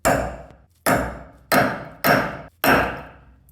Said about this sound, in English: punch a good center punch into it